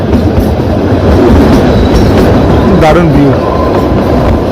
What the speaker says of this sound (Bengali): মাঝখান দিয়ে বুক চিড়ে আর টয় ট্রেনে বেরিয়ে যাচ্ছে